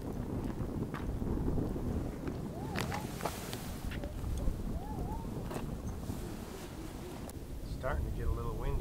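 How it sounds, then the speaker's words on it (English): Wind buffets a microphone in low, rumbling gusts at a campsite, with people talking over it and brief whistling tones and rustles throughout. "Starting to get a little windy."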